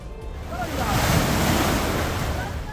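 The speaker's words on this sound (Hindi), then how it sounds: "पहाड़ों पर हुई मूसलाधार बरसात के बाद यमुनानगर में यमुना पूरे उफान पर है।" The Yamuna river at Yamunanagar, swollen after torrential rain in the hills, rushes past as a loud, steady broadband roar, with gusting wind noise on the microphone.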